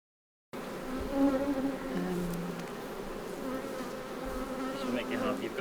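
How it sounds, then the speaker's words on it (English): A swarm of honeybees drones in the grass near a hive, a steady, dense buzz that holds at an even level throughout, with individual bees passing close now and then. "you've got a swarm in the grass"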